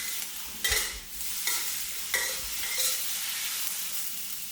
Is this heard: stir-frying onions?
yes